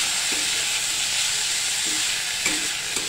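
Finely chopped tomatoes sauté in a hot pan, giving a steady, close sizzle with broad hiss and a few faint stirring clinks, with no one talking.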